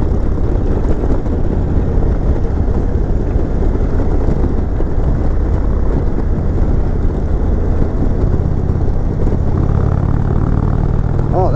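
A 2020 Indian Chieftain Limited motorcycle's exhaust rumbles steadily and loudly while riding, a continuous engine drone with no pauses and no talk.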